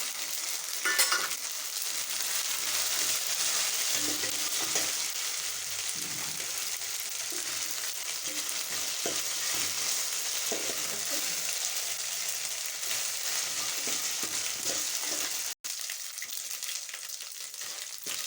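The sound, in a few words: ginger garlic paste frying with onions in pan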